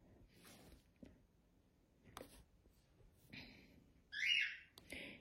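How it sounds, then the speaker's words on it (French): Pet cockatiels, a male and a female, chirp indoors in short, bright bursts, growing louder near the end, with quiet gaps between calls and no speech. "Et là, vous entendez les oiseaux. Alors, on a des calopsites."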